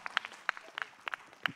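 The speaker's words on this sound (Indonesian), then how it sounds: "tepuk tangannya Bu." A studio audience on an Islamic television talk show claps in a short, sparse burst of separate hand claps, with a voice briefly heard underneath.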